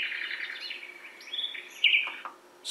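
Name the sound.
forest birdsong from BuffBee white noise sound machine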